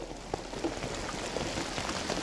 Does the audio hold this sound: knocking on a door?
no